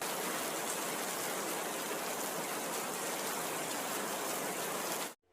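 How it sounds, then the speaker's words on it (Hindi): Dense, heavy rain pours down in a continuous loud hiss, then cuts off abruptly near the end. "बारिश तेजी से बरस रही थी, रुकने का नाम नहीं ले रही थी।"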